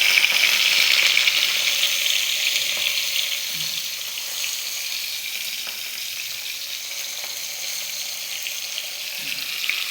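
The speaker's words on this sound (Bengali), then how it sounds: "তেল গরম হয়ে গেছে, মাছটা দিয়ে দিই।" Fish fries in hot oil with a steady, loud sizzle that is strongest at first and then settles into a constant crackling hiss, heard alone up close.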